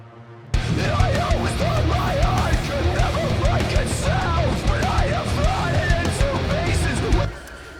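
Nu-metal or industrial metal build-up with drums, bass and chugging distorted guitars under synth lines, dense and loud throughout, cutting off abruptly near the end.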